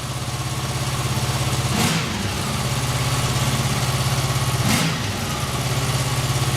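Honda VFR motorcycle engine idling right after starting, a steady close throbbing rumble that holds evenly throughout, with two brief swells in revs.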